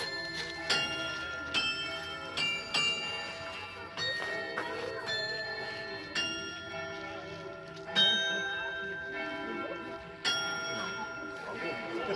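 Carillon bells ring out in a played tune, with struck notes sounding one after another and each decaying into a shimmering overlap, alone and without voices.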